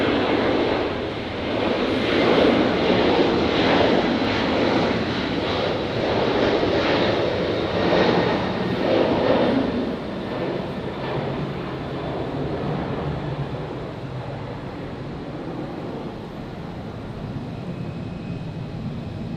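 Qantas 15, an airliner departing Brisbane Airport, roars loudly as a broad, steady jet rumble that swells and then slowly fades as it climbs away, with no voices over it.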